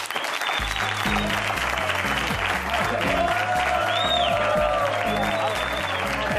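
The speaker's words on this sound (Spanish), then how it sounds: "Recibir con un fuerte aplauso a los tres idiotas de los concursantes." Applause for three contestants on a comedy show, a steady crowd clapping wash layered over loud rhythmic music with a pulsing bass beat, with faint voices mixed in.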